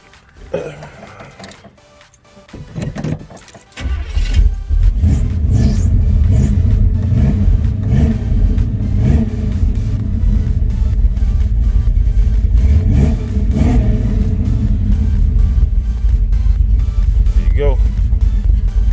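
A Chevy engine in a box Chevy starts up after a quiet spell, then runs loudly with repeated revving swells and a deep rumble, a voice speaking over it now and then.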